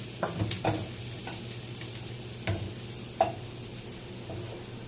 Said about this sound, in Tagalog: paghahaluin na natin yung sibuyas sa garlic, onion